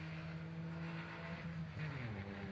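Car number 105 on a rally stage at the Harlech Stages event, its engine note running steadily and then shifting in pitch as it revs and changes gear, at moderate distance with no talk.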